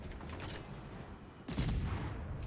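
Secondary battery guns on a warship in World of Warships fire in a muffled, rumbling volley, with a heavier boom toward the end over steady low battle ambience.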